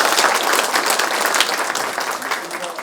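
Dense applause from a town-hall audience of local residents, steady clapping that gradually tapers off with faint voices beneath.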